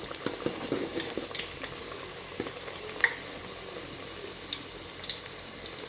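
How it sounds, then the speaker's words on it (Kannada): Badam puri dough pieces frying in hot oil, giving a steady soft sizzle with scattered crackles and an occasional light stir, close and fairly quiet, with no voices. "ಚೆನ್ನಾಗಿ ಫ್ರೈ ಮಾಡಬೇಕು ನಾವು ಎಣ್ಣೆಯಲ್ಲಿ ನೋಡಿ ಈ ಥರ"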